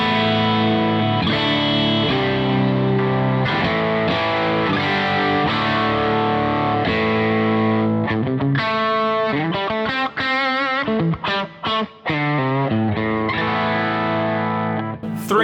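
Electric guitar played through a Bogner Goldfinger 45 amplifier with the post-effects boost engaged, sustained distorted chords ringing out and then quicker choppy riffing with brief gaps, loud and alone.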